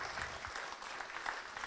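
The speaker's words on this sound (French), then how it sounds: "On l'applaudit bien fort." Audience applause at a round-table event with local elected officials, a steady dense clapping sustained throughout without pause.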